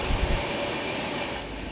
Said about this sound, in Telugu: పక్కనే ట్రైన్ ఉంది కదండి, అది ఏ ట్రైన్ అనుకుంటున్నారు? 12764 Secunderabad Tirupati Padmavati super fast express.